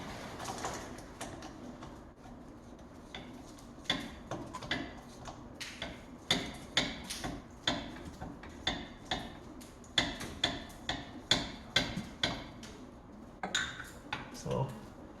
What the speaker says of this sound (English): You're going to make sure that your ratchet is turned the right way